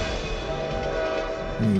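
A loud, sustained train horn blares from a film trailer, a steady held tone that swells near the end, alone with no talk over it.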